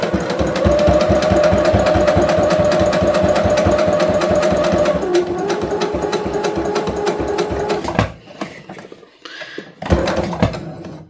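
A sewing machine stitches fabric for a pencil and pen holder, running in a fast, even mechanical chatter for several seconds before stopping abruptly, followed by a few short bursts.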